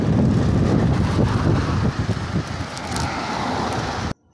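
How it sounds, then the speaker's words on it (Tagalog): Strong wind buffets the microphone while cycling across an orange bridge toward Bantay in the Philippines, a loud continuous roar and rumble that cuts off abruptly at the end. "pero malakas talaga ang hangin"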